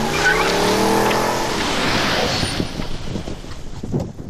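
A Mercedes-Benz Maybach car drives past on a street in Georgia, its engine tone rising sharply with a brief tire squeal, then fading as it pulls away.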